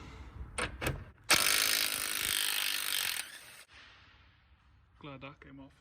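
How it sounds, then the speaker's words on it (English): A long, loud burst of a power tool removing rear shock absorber bolts on a Jeep Cherokee XJ, preceded by a couple of sharp metallic clicks and followed by quieter clanks and a brief voice. "I'm going to remove these shock bolts"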